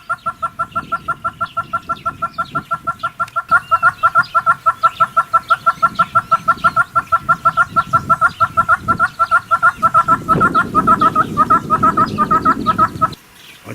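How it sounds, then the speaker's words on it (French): A red-billed hornbill calls loudly outdoors in South Africa, a long series of rapid, evenly spaced clucking notes that quicken and intensify before stopping abruptly, with low rumbling background noise underneath. "Le calao, à bec rouge, est omnivore. Il manifeste sa présence par un cri bruyant et s'accélérant."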